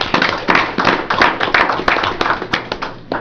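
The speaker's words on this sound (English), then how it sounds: "I'd like to give them all a round of applause" A handful of people at a town council meeting clap for honoured fire department members, with brisk, close, overlapping claps in an irregular patter that carries steadily throughout.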